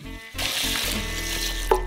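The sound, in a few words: water poured into a saucepan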